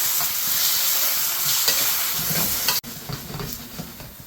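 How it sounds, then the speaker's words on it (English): Fish jalfrezi sizzling and hissing steadily in a hot pan as lemon juice goes in and it is stirred, with a brief cut near the end before the frying resumes, close and fairly loud with no talking. "we need a good douse of lemon just to sizzle it off. We're going to give that a good stir"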